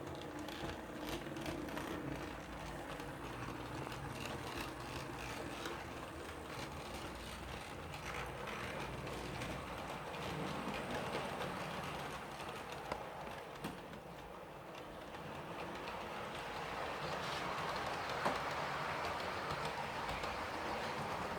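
A model HST train runs around a layout track with a grindy, whirring motor, its steady rolling rumble and clicking wheels continuing close by and growing slightly louder toward the end.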